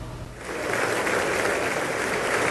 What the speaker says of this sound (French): C'est sous de longs applaudissements que Brigitte et Emmanuel Macron ont été accueillis par le Congrès américain